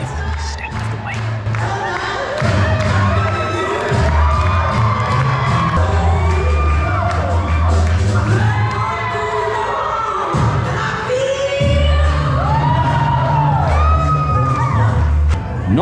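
Wedding guests at a garden wedding clap, cheer and whoop loudly in a dense, continuous crowd roar with voices shouting over it, while music plays underneath throughout.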